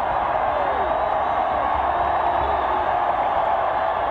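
Roaring stadium crowd at a 1988 Texas vs BYU college football game, a steady loud wall of cheering and whooping that holds without a break.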